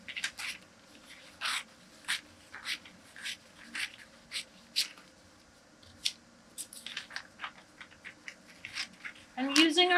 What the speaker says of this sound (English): we're going to cut on the first dart leg